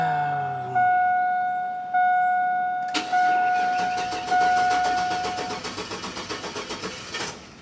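A car engine with a misfire problem cranks in a few short bursts, then catches and runs roughly, settling into an uneven, pulsing idle up close with no talk.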